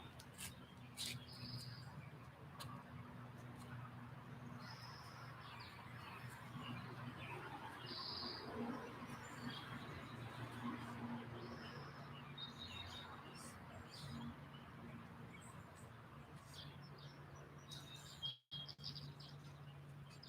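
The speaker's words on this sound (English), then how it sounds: "we got beautiful music with the birds" Small birds chirp and tweet in short scattered calls outdoors, faint and somewhat distant, over a low steady background hum with a voice occasionally audible.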